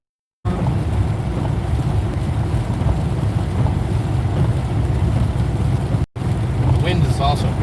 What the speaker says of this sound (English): Wind has also picked up again.